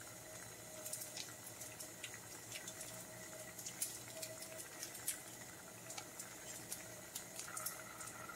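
Spaetzle simmering in a pot of water, a quiet, continuous bubbling with small pops and ticks spread steadily through the whole stretch, no talking.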